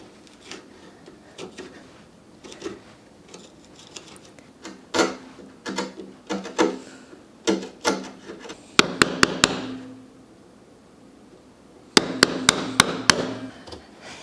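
A Japanese chisel works a piece of oak, giving close knocks and scraping cuts, with two sharp bursts of rapid mallet taps, each about four strikes.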